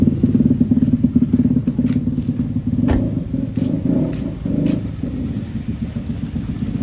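A Mitsubishi Lancer EX engine idles steadily close by, a low continuous rumble with a few light clanks and clicks.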